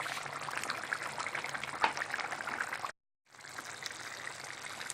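Water is poured steadily into a baking tray of potatoes and chicken, a continuous splashing stream that runs close and fairly loud, breaks off into a brief silence, then resumes.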